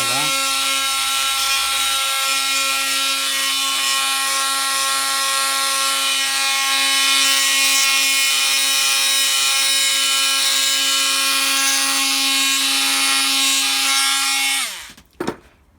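Parkside budget cordless multi-purpose tool sanding, a steady high-pitched motor whine with a rough abrasive rasp that runs loud and unbroken for about fifteen seconds, then winds down and stops.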